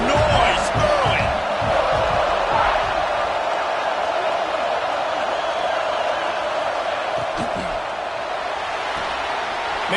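Football stadium crowd noise at a South Carolina vs Oklahoma game, a dense, continuous roar of a large crowd with faint thuds, steady and loud throughout, under a commentator's voice.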